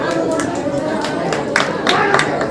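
An audience applauds at a cooperative society's annual function: steady, dense clapping from a crowd in a hall, with a voice talking over it.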